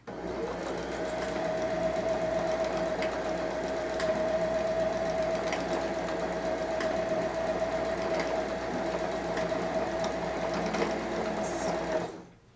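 A sewing machine runs steadily for about twelve seconds, stitching forward and backward over elastic on a pair of comfy pants, with a constant close whirring hum and faint needle ticks until it stops.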